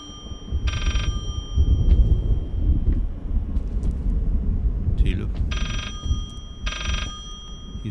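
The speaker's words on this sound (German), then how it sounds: "Hier ist irgendwo ein Telefon" A telephone rings from behind a wall in the video game Layers of Fear, three separate muffled bursts of bell tones over a low, windy ambient drone.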